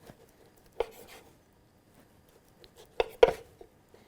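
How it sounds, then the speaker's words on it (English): A knife slicing through pork belly into squares on a cutting board in a home kitchen, giving a few soft, isolated cuts and taps, quiet and close, with pauses between them. "I'm going to cut the pork belly into squares."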